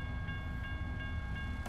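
A long train rolls past on nearby tracks, a steady rumble with rhythmic wheel clacks and a faint high tone from the wagons, continuous throughout.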